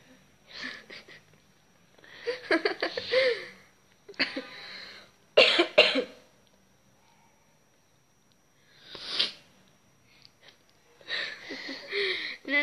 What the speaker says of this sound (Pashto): زما زکام دی او سینه مې خرابه ده، نو ځکه بار بار ټوخي کوم.